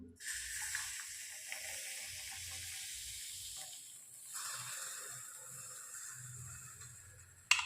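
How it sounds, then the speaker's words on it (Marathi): Tandoori chai pours into a clay pot in a steady, soft hissing splash that lasts several seconds, fairly quiet and close. "चला तर चहा याच्यामध्ये ओतून घेऊया"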